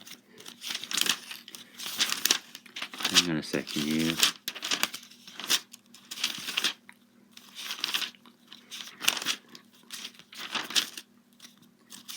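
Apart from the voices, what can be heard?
paper rustling while searching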